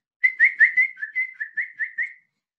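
A person whistles an imitation of a bird call: about ten short, bright, evenly spaced notes in a quick run, alone against silence.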